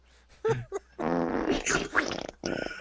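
A fart sounds out in a podcast setting: a couple of short puffs followed by a long, buzzy, rasping blast that sputters out at the end.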